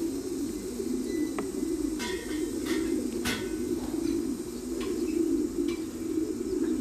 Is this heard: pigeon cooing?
yes